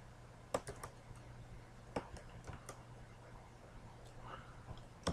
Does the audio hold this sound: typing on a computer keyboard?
yes